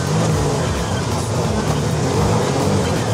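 Buggy engine running at the Nürburgring, a loud continuous rumble with rising and falling revs and rushing wind noise.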